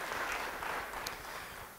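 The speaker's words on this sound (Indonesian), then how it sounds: "Beri tepuk tangan bagi dia" Church congregation applauding during a sermon, a steady dense wash of clapping at moderate level filling the whole moment without pause.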